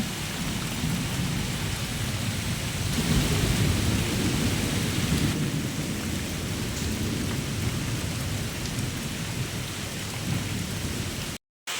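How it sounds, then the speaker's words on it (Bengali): Heavy rain pours down outdoors in a loud, constant hiss while deep thunder rumbles and rolls beneath it during a storm. "বাইরে এখন প্রচণ্ড পরিমাণে বৃষ্টি হচ্ছে আর মেঘ ডাকছে"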